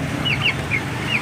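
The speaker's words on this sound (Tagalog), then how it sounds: "ito na po ang update natin sa ating mga broiler chicken" Broiler chickens give a few short, high clucks, spaced irregularly and fairly close, over a low background murmur.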